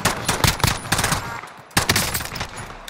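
Rapid bursts of gunfire crackle through a video game firefight, two loud clusters of fast shots separated by a brief lull.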